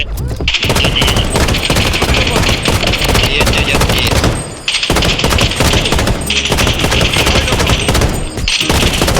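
Video-game burst-fire gunshots in a loud, dense barrage of rapid shots that continues almost without break, pausing briefly only twice.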